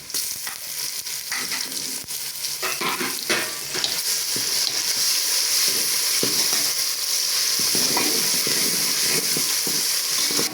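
Ginger garlic paste fries in a pan with steady sizzling, with occasional stirring and scraping clatter, continuous and fairly loud throughout.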